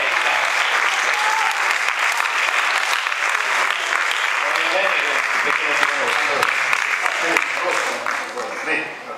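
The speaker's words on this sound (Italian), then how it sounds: "Bel applauso perché." Dense, steady applause from an audience at an Italian opera event, welcoming an association president to the stage; continuous clapping throughout that tapers slightly at the end.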